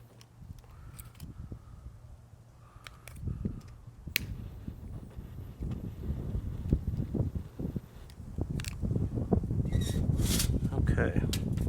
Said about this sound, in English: Apologies, it's a little windy out here today